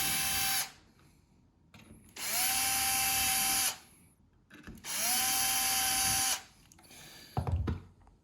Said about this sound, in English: The next step is gonna be pre-drilling the holes with a 1/16 drill bit.